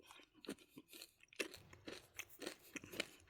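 Peanut M&M's chocolate candies being chewed and crunched up close, a steady run of crisp bites and crunches from the candy shell and peanuts, no talking.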